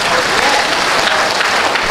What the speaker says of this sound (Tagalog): Anyway, palakpakan mo na si God.